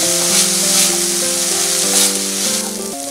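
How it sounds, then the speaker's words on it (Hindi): Green peas with crushed black pepper sizzle steadily in a pan, a continuous near frying hiss with faint stirring scrapes and a musical tone running underneath throughout. "अब हम इसमें कुटी हुई काली मिर्च डालेंगे, मिक्स कर लेते हैं और इसे 1 मिनट तक और पकाएंगे"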